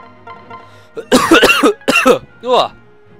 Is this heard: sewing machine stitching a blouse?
no